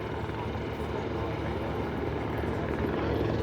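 A helicopter flies overhead at the Stratford air show, its steady rotor drone loud and continuous throughout, growing slightly stronger toward the end.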